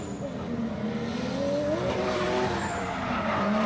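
A drift car initiates a drift at a Southeast Asia Drift Series round in the Philippines, its engine roaring loud and rising in pitch with tire squeal and skidding sustained throughout, close and continuous.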